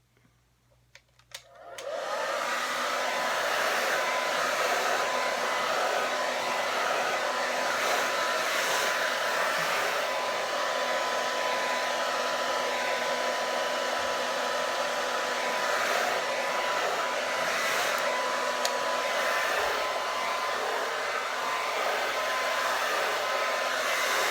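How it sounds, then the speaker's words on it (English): A blow dryer drying curly hair switches on after a brief quiet moment and then roars loudly and steadily at close range, with no pause and no talking. "Go back in with the blow dryer because my hair is still a little wet from the deep conditioner."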